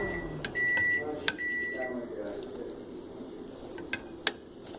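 A microwave melting butter for crepe batter gives a few short electronic beeps, then soft kitchen clinks and low sounds around a voice.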